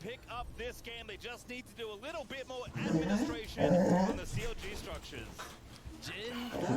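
A dog whimpers, yips and barks excitedly in the background, rising and falling in pitch with several short outbursts, while someone talks continuously over it.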